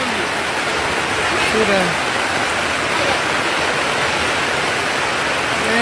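Heavy rain pours and runoff water rushes in the aftermath of Hurricane Melissa in Jamaica, a dense, loud, continuous hiss filling the scene while someone speaks briefly over it.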